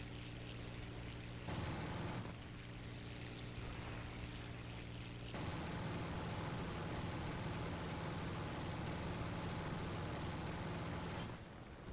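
Droning aircraft engine of a seaplane in Call of Duty: Advanced Warfare, a steady loud hum with tonal harmonics that shifts pitch a couple of times over twelve seconds, alone without talk.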